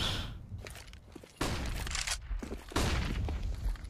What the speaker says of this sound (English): lot of flashbangs being thrown there